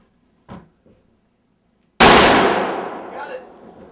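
A single rifle shot fired at a target outdoors cracks loudly and rings off in a long decaying tail, preceded by a couple of faint brief sounds.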